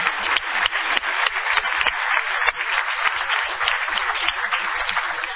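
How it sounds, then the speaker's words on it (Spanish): Audience applause at a Spanish-language gathering, a dense, loud wash of clapping sustained for several seconds with a few sharper individual claps standing out, up close. "Fuerte el aplauso para él, por favor."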